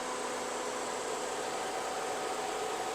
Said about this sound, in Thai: นี่ฟังเสียงเครื่องค่ะ พัดลมอะไนทำงานนะคะ ห้องเครื่องคือนิ่งๆเลย